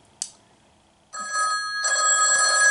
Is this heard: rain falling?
no